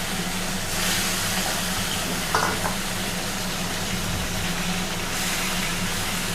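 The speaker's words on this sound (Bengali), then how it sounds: "আর এই যে ইলিশ মাছগুলো সামান্য হালকা করে ভাজা হবে।" Hilsa fish fries lightly in oil seasoned with black cumin, a steady close sizzle with a few faint clinks partway through.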